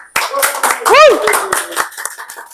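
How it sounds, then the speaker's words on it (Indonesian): Scattered hand clapping from a small studio audience greets guests from a wedding organizer, with loose uneven claps mixed with lively talk and a rising whistle-like tone in the middle. "Tepuk tangan dong"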